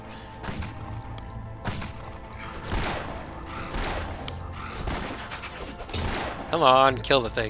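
Rifle fire in the action role-playing game Torchlight, with repeated sharp shots and impacts mixed into busy combat effects under a steady game soundtrack, and someone talking over the action.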